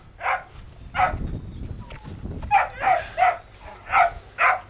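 A working sheepdog on a farm gives a series of sharp, fairly close barks in an irregular rhythm, with a person talking between them and faint outdoor background noise.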